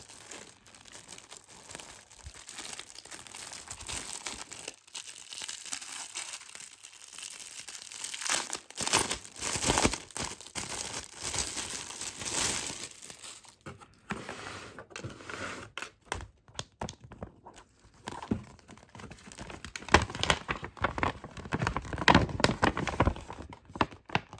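Continuous close-up crinkling and rustling of thin plastic Oriflame sample packets being handled, with bursts of sharper crackles throughout and no voices.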